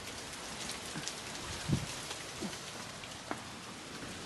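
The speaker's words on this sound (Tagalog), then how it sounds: "May maliliit na yelo." Heavy rain mixed with small hailstones, a steady hiss of rain on surfaces broken by a few sharp, scattered ice pellet impacts, one louder knock near the middle, no voices.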